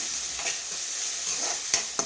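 Turmeric, chilli powder, salt and tamarind sauté in a pan with a steady close sizzle and a couple of sharp ladle clinks, and no voices.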